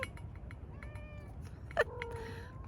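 A cat gives a couple of short, soft meows close by in a quiet room, one brief call standing out more sharply than the others.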